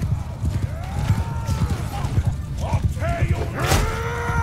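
Horse hooves clip-clopping in the medieval combat game Mount & Blade 2: Bannerlord, rhythmic beats under battle noise with whooshing and metallic swings, a voice faintly present.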